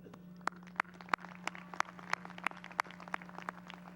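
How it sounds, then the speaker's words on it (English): Scattered, evenly spaced claps ring out at a 2013 graduation ceremony, sharp and fairly close, over a low steady hum in a large hall. "Let's give a strong round of applause for our class of 2013"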